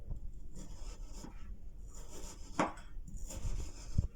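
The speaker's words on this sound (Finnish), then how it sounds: "tää liha pitää leikata aina niinku syytten vastaisesti" A knife cuts through reindeer meat against the grain on a board, giving soft scattered slicing strokes and a few sharper knocks, close and quiet.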